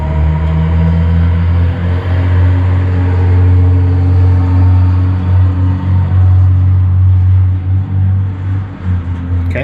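A truck rolls past with a loud, deep engine rumble that swells and holds near, then eases off as it moves away.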